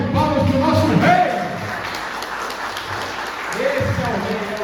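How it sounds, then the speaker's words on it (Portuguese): Applause from a church congregation swells briefly at the start, then fades as a voice starts speaking over the room. "Dá aquela salva de palmas para o nosso rei."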